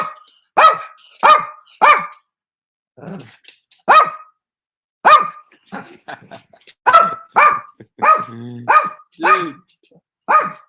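A puppy barks in short, sharp bursts spread through the scene at home, loud and close, alternating with someone talking between and over the barks.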